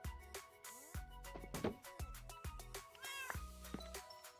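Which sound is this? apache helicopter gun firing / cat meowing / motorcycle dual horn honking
cat meowing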